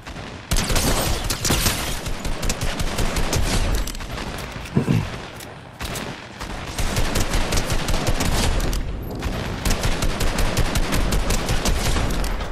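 Dense, rapid video game gunfire, a near-continuous rattle of automatic shots with a few heavier booms, loud and close throughout with only brief gaps.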